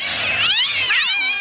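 A cat meows as a radio sound effect for a cash prize giveaway: two drawn-out, wavering meows in quick succession, loud and clear with no talk over them.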